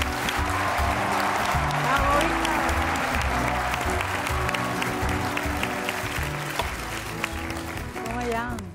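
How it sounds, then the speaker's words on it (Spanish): Studio audience applause and cheering for a guest introduced on a Spanish late-night comedy show, loud and sustained throughout with music playing underneath. "Por favor, un aplauso para Víctor Lem."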